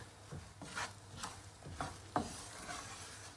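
Almonds and sugar cooking in a pan are stirred with repeated scraping strokes, about half a dozen close sweeps over a soft sizzle, with no talking.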